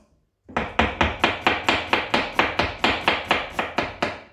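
A knife chops ginger into fine strips on a cutting board: about fourteen crisp, evenly spaced strikes in a steady rhythm, close and fairly loud, with no talking.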